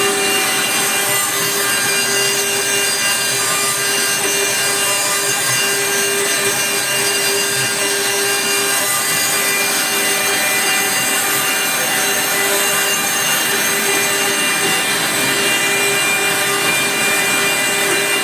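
CNC machines carve fluorite crystals in a workshop in Donghai, China, with a loud, constant grinding whir and a steady tonal hum that never lets up.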